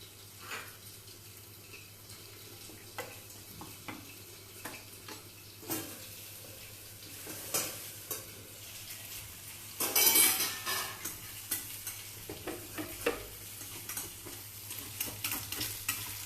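Fara dumplings sizzle as they cook in a pan, with a steady frying hiss and intermittent clinks and scrapes of a utensil stirring, growing busier toward the end.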